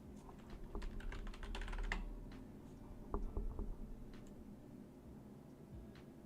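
Rapid typing on a computer keyboard, keys clattering in quick bursts and brief pauses, close and fairly quiet, with no voices.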